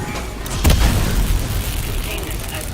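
Explosions in a zombie video game boom with a loud, dense rumble, one big blast standing out early amid continuous low-end roar and battle noise.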